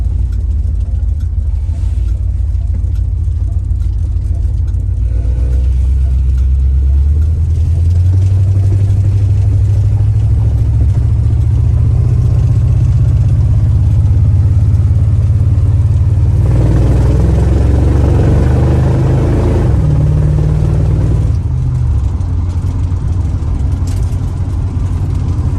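A 1965 Dodge Monaco with a 383 V8 runs steadily for about 25 seconds, a loud, deep idle near the car that rises briefly in pitch partway through, then settles back to a rumbling idle.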